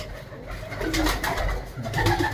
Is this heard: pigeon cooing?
yes